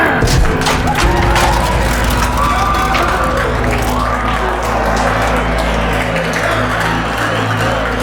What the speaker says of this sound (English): Give a big round of applause for Mr. X!